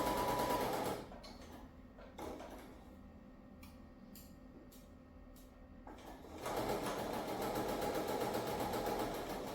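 Close, steady whir of a sewing machine stitching a quilt block, dropping out for a few seconds of light clicks and fabric handling, then starting again and running slowly over the seam.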